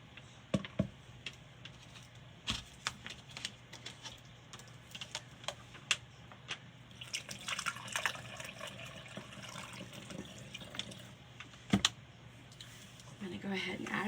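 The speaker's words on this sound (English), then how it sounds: "So now we're going to add a little bit more water." Water is poured into a glass potion bottle for a poison apple craft, a soft, rushing trickle under scattered sharp clicks and clinks of glass and handling.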